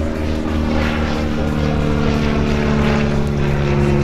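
Bücker Jungmeister propeller biplane performing an aerobatic display, its engine droning loud and steady with a strong low buzz throughout, alone with no voices.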